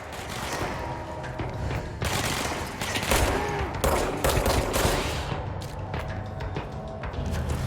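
Panic gunfire in the video game Control, a sustained loud barrage of rapid shots with heavy impacts and booms, continuous and close, thinning into scattered bursts toward the end.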